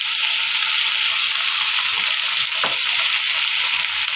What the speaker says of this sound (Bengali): মশলাটা ভালো করে কষিয়ে